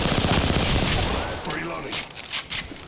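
Rapid automatic gunfire in the battle royale shooter Apex Legends, loud and dense at first, then breaking into scattered bursts as a voice speaks over the shots.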